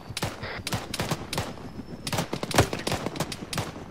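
Rapid gunfire from a multiplayer military video game crackles in dense, overlapping bursts of sharp shots, loud and close throughout.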